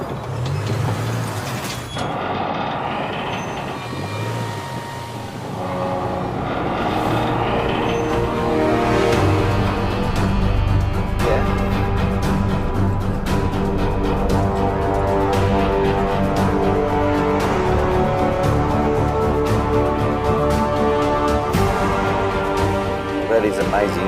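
A Land Rover Discovery hauls a huge road train across the outback, its engine droning steadily and loudly under continuous mechanical rumble and creaking as the load gets moving. Someone speaks over the noise.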